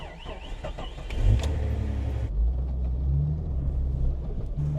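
A vehicle at a snowy off-grid cabin, with a battery that was dead on the last attempt, cranks and catches into a deep, close rumbling idle that settles and keeps running.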